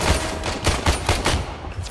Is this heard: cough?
no